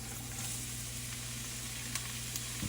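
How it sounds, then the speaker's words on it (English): Onions and carrots frying in olive oil, a soft, steady sizzle with a low hum beneath and a couple of faint ticks, quiet and close. "So we're going to cook this onion and the carrots down a little bit"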